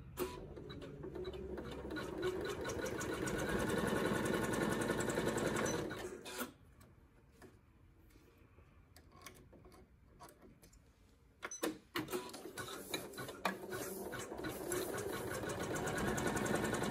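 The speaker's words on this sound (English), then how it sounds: "We'll stitch that final stitch." An embroidery sewing machine stitches a fabric card holder, its steady mechanical whir running loud for about six seconds, stopping to near silence, then starting up again and running on to the end. No one speaks.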